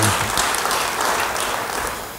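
A church congregation claps loudly during a sermon, a full burst of applause that slowly tapers off with no speech over it.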